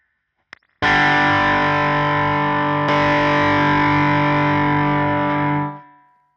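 An electric guitar runs through a boost into a Tone City Double Durple distortion pedal: a single heavily distorted chord rings out loud and sustained, gets restruck partway and jumps in volume, then fades out, after a brief pick tap.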